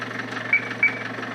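A Toyota Hiace van engine idles after a remote push-button start, a quiet, steady low rumble with a faint rhythmic pulse and two soft ticks.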